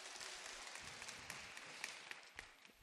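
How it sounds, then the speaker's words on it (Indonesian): Brief, faint applause from a church congregation, a soft wash of clapping with a few distinct claps near the end. "Tepuk tangan dong."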